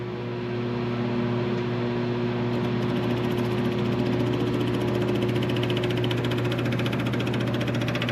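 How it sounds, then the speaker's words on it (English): An electric fuel pump runs on a 1927 Dodge Brothers car, a loud, close, steady mechanical hum with a constant pitched drone and fine buzzing vibration that starts just after the opening moment and continues unbroken. "go ahead and click it on. It'll just take one click"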